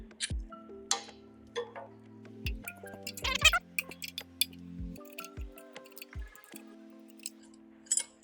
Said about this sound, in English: grab our specialty socket, put it on the lines and crack them all free